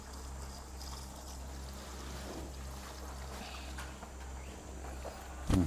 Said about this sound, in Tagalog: So ngayon, dinadagdagan ng tubig. Para mapuno. Para mapuno yung 16 liters.